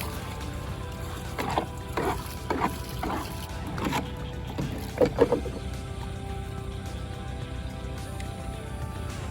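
Rainwater is bailed out of a fiberglass boat: repeated scooping and splashing, several uneven strokes close by with sloshing in between, no voices.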